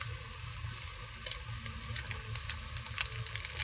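Tengra fish curry frying with chili powder in a pan, a soft steady hiss and sizzle with faint scattered crackles that grow a little busier toward the end.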